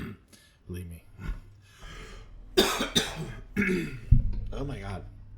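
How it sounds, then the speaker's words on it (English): Someone coughs several times from allergies, short harsh bursts with throat clearing, close and fairly loud amid quiet pauses and brief talk. "I'm sorry for coughing."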